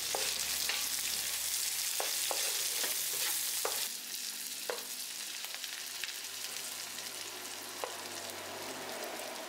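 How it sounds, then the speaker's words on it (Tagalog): Onions sautéing in a pan for paksiw na bangus, a continuous crackling sizzle with scattered sharp pops and stirring clicks, steady throughout and without voices. "Igigisa lamang natin itong mabuti hanggang lumabas yung aroma nito"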